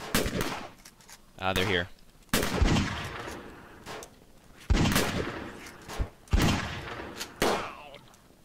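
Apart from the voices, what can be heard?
gunfire in video game Fort Zombie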